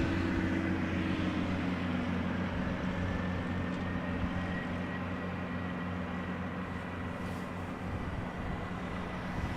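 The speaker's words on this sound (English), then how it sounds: "Boeing 737-900 from KLM flight 1009 outbound to London Heathrow" A KLM Boeing 737-900 departs Schiphol for London Heathrow with a sustained jet roar. Low tonal hums run under a broad rushing wash at moderate distance, and there are no voices.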